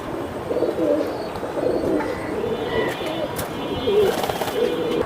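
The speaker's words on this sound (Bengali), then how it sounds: "এটা হচ্ছে হ্যারিকেন কবুতর" Giribaz and Hurricane breed pigeons coo nearby in repeated soft, throaty rolling calls over a low background hiss.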